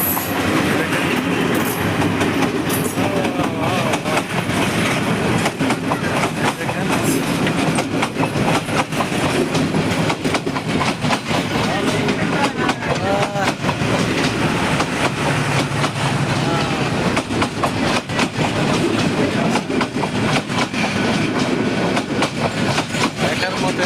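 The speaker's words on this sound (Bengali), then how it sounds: "দেখেন এই রেল আসতেছে" A train rolls into Laksam railway junction, a loud sustained rumble with rapid clickety-clack of wheels over rail joints, steady throughout at close range.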